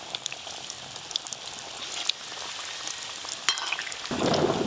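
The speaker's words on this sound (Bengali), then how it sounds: "এবার আমি খাজাগুলো ভেজে নেবো দেওয়ার সাথে সাথেই দেখুন ভেসে উঠছে তেলের ওপরে" Khaja pastries deep-fry in warm oil, a soft, even crackling fizz with scattered pops, swelling into a louder, fuller bubbling in the last moment.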